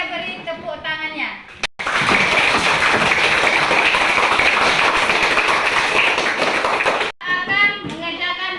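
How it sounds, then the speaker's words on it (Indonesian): Schoolchildren in an elementary classroom clap together in a loud, sustained burst lasting about five seconds, with a teacher's voice speaking before and after. "Mari kita beri tepuk tangannya."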